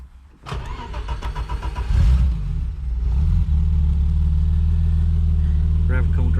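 A BMW E30 320i engine cranks briefly, catches and fires, then settles into a steady, loud idle up close, with a faint voice near the end.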